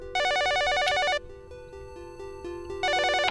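A telephone rings in the game YU-NO in loud electronic trilling bursts, one burst, a pause with a soft musical tone, then a second burst starting, heard alone without talk.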